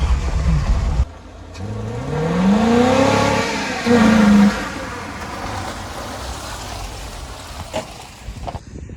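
A Nissan K10 car driving, its engine rising and falling in pitch as it accelerates and shifts, running steady and close with no talk.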